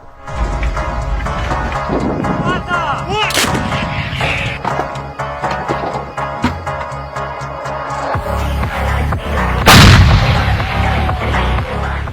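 An M777 howitzer booms out several times, each blast loud and rolling, with a particularly powerful report near the end against constant rumbling background noise.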